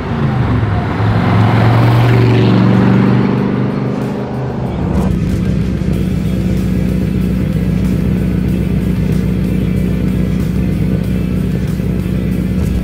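A 1967 Shelby Cobra 427 V8 roars through donuts, starting with loud revving and tire-scrabbling bursts, then settling into a steady, close, rumbling idle-to-midrange drone that stays loud throughout.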